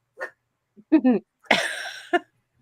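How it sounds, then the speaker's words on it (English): A pug dog gives a few short, sharp barks and yips indoors, close and fairly loud, separated by brief pauses with quiet between them. "She doesn't normally bark."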